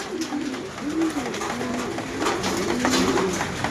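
Pigeon landing at a home loft after returning from the south, cooing in a steady run of low rolling coos through the whole stretch, close and fairly loud over faint background noise.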